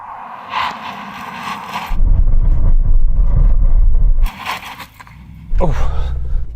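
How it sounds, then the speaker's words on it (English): An Audi RSQ8 with carbon ceramic brakes and 370 mm rear discs brakes hard from 60 mph, heard as a loud low rumble and tyre scrub in bursts, broken by wind and brief talk. "let's just check out the braking performance from 60 miles an hour in this car"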